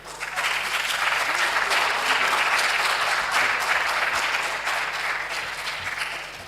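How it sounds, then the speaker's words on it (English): An audience at a university business competition applauds an all-female team from Heritage Christian University, sustained dense clapping that swells and then tapers slightly over several seconds, with a faint low hum beneath. "I think that is something that we need to applaud them for."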